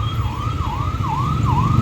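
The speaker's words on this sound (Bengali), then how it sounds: "অ্যাম্বুলেন্স আসছে" An ambulance siren wails in a highway traffic jam, a steady rising-and-falling electronic tone cycling several times, loud and near over a low rumble of idling vehicles.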